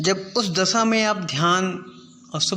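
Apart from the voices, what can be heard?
None of the usual background noises is heard.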